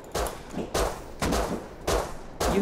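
Gunfire in the video game Rust, with AK rifles and P250 pistols: four or five loud, sharp bursts at roughly half-second intervals, each one a short volley of shots, close and clear.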